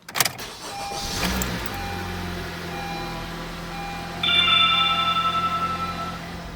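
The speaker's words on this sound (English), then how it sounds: "Now start the car." A 10th-generation Honda Civic engine cranks briefly and settles into a steady idle close by, with a higher-pitched whine joining partway through, likely the A/C compressor kicking in.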